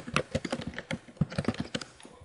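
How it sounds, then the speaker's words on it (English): Typing on a computer keyboard while entering a name into an inspection record, heard as a steady run of quick, close key clicks with no talking. "type in my name"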